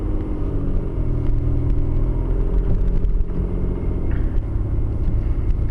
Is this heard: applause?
no